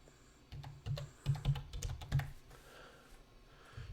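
Keys clatter on a computer keyboard in a burst of close, crisp taps, uneven in rhythm, some strokes louder than others, trailing off into quieter room tone near the end.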